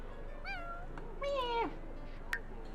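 A cat in The Sims 4 video game gives two clear, drawn-out meows in quick succession, the second longer and falling in pitch, followed by a short sharp click, over quiet game ambience.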